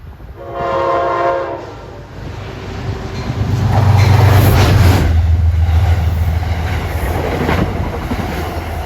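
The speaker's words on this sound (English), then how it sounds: "874 Poughkeepsie to Grand Central with 290 of the Ethan Allen Express from Burlington, Vermont to Penn Station." An Amtrak Ethan Allen Express train passing a Metro North commuter train at Riverdale: a loud horn blast at first, then a rising rumble and rolling clatter of wheels on rails as the trains go by close, sustained to the end.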